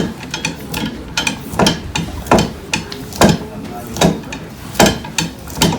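An 80-year-old machine carving wooden shoes from fresh, wet poplar makes a steady series of rhythmic scraping, clacking strokes roughly every half second, loud and close.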